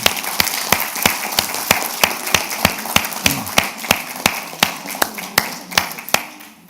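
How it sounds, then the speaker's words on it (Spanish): Applause for a prize winner at a talk on workplace stress: a steady run of sharp claps, evenly spaced and moderately loud, with faint room noise between them. "Vamos a darle un aplauso."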